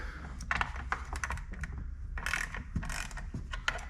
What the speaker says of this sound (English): to put the lever in, you need to start with 10mm socket